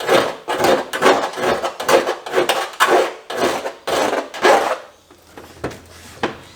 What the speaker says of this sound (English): So I'm just going to get rid of some of the burrs and whatnot using a little file.